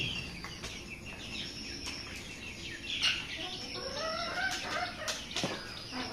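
A flock of chickens clucks and chirps nearby, with scattered bird calls and brief flapping sounds over a quiet outdoor background.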